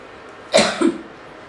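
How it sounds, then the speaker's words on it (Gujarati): A single close cough, with a second softer follow-up, brought on by green chilli fumes while cooking khichu at home, a sharp short burst standing alone against quiet. "લીલા મરચાના સ્વાદના કારણે ઉધરસ આવે છે"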